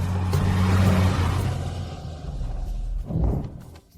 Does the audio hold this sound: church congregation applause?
no